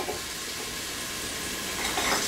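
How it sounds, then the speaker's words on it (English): Garlic sizzles in a hot Instant Pot liner while making pizza sauce, a steady, fairly loud crackling hiss that continues throughout and grows slightly toward the end. "So we'll dump that in, and it already sizzles a bit."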